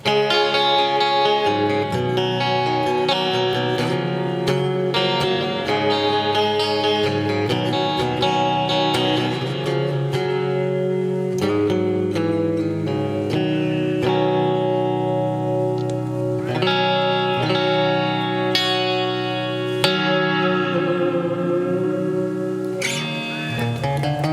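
Electric guitar chords through a Roland JC-40 amp with reverb turned fully up ring out with heavy, washy reverb, each strum trailing into a long ambient tail; loud and continuous with no talking.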